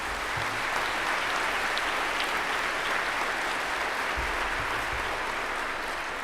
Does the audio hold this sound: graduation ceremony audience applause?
yes